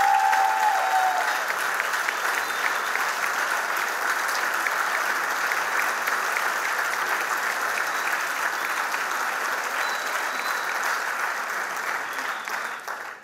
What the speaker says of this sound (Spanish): fuerte el aplauso también para Yagoba Veiga